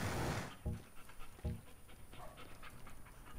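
A dog pants in the video game Teardown, two or three short rhythmic breathy bursts after a loud opening noise, heard moderately close over faint game ambience.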